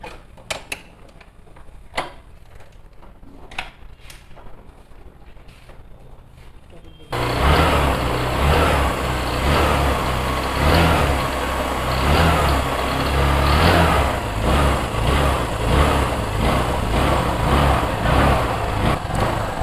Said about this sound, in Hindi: तो दोस्तों बाइक स्टार्ट हो गई है और स्टार्टिंग में कोई प्रॉब्लम नहीं है।